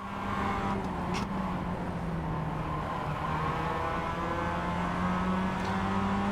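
A race car with its bumper missing closes in from behind during a track session, its engine droning steadily and building under the continuous roar of the pursuing car's own engine and road noise.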